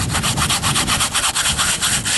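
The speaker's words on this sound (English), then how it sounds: "So now I'm finishing up, just sanding this, roughing it up" Rapid back-and-forth rasping of sandpaper on agave wood for a didgeridoo, close and steady, with an even scrubbing rhythm and no voices.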